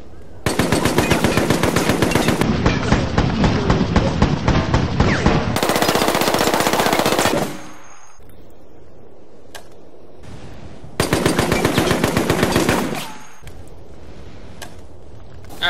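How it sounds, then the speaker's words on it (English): Militia Rifle, an AK-style assault rifle in Resident Evil: Operation Raccoon City, fires loud sustained automatic bursts for about seven seconds, then pauses before a second shorter burst, with quieter game ambience in the gaps. "Alright, let's test the Militia Rifle out."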